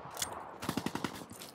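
Annihilator gunfire in Call of Duty: Black Ops 3, a quick run of about six sharp, evenly spaced shots, moderately loud over a soft game background with no talk.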